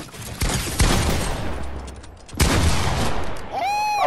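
Close, loud video game gunfire comes in two dense bursts of rapid shots with a lull between, followed by a short whistling, warbling effect at the end.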